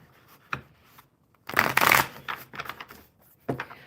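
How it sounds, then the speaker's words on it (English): Playing cards are shuffled close up in several bursts: short riffles and taps, a longer flurry in the middle, then more quick riffles with quiet pauses between. "Let's get these cards shuffled."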